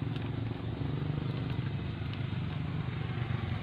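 A Honda Blade motorcycle engine running after a spark plug is fitted, giving a steady, close idle with a low throbbing putter and light mechanical clatter throughout.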